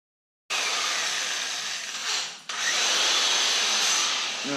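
Buffing wheel polishing an aluminum motorcycle fork with brown jeweler's rouge, a steady high whirring hiss that dips briefly mid-way then resumes, close and loud with no talk.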